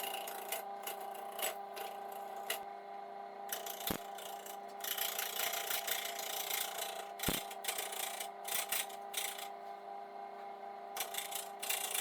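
A wood lathe turns a laurel branch with epoxy resin, and a tool scrapes and rasps against the spinning wood in a steady hiss, broken by a few sharp clicks, with no voices.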